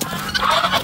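A young farmyard rooster gives a brief, close run of clucks lasting under a second, fairly loud against a quiet yard.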